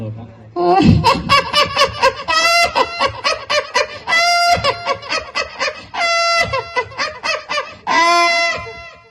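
A man at a friend's wedding program imitates a chicken seller laughing, producing a loud, close run of rapid clucking, honking laugh syllables in a steady rhythm, several long squawks, and brief pauses between bursts.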